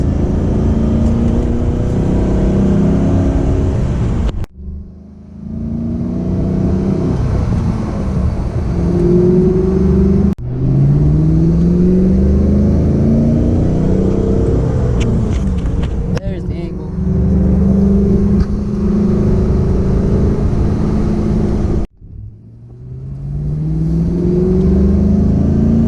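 A 2006 Ford GT with a 5.4-liter V8 revs and accelerates through several gear pulls, a loud, close engine rising in pitch with brief drops at each shift.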